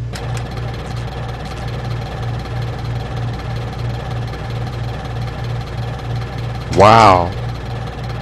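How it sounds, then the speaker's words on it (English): A vibrating bed in the Max Payne video game hums steadily with a low, pulsing mechanical buzz, even and continuous throughout, and a short spoken exclamation briefly rises over it near the end. "The bed vibrator."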